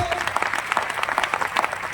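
Applause from an audience in a Kolkata auditorium at a company event, a brief burst of scattered, fairly close hand claps, moderately loud and uneven in rhythm.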